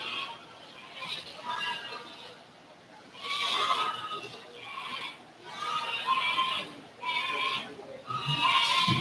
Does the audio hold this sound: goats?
yes